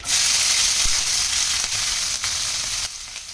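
Onion, green chili and coriander stems hitting hot oil in a pan, a loud bright sizzle that stays strong and even, with a few stir clicks, then eases slightly toward the end.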